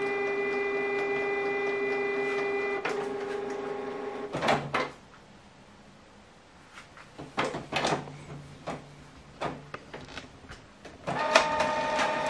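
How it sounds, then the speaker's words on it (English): A Canon PIXMA MG3600 inkjet printer whirs steadily with a mechanical hum, pauses, then clunks and rattles as paper feeds through before the whirring resumes. "And this document now is going to print from."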